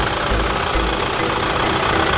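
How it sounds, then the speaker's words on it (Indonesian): A 2015 Chevrolet Captiva 2.0 diesel with automatic transmission idles close up, a loud, steady rattling clatter with a dense, even drone and no talking. "Suara dieselnya masih oke."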